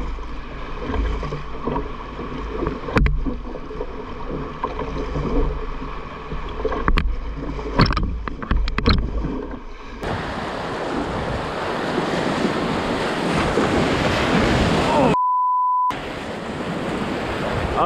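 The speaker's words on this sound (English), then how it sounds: "So this is one of the most challenging whitewater sections of this entire river." Whitewater rapids rush along a river on a canoe trip, first a gusty, windy wash with knocks, then a loud, steady roar of churning water close by, briefly cut by a short electronic tone.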